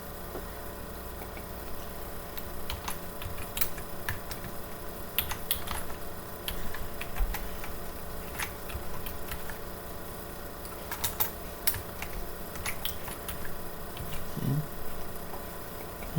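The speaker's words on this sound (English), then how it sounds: "and type these in" Numbers being typed into Excel on a computer keyboard: a run of quick, light key clicks in short bursts with pauses, close and fairly quiet, with a faint steady hum underneath.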